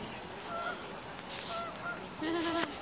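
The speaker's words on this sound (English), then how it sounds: "Did I tell you guys that those geese are my friends?" Geese honking outdoors, where a large migrating flock gathers: a few scattered calls early on, then a louder burst of several overlapping honks near the end, over steady open-air background noise.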